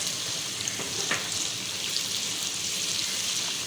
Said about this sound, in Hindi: अब मैं लहसुन अदरक का पेस्ट को अच्छी तरह से मैं भून लूँगी।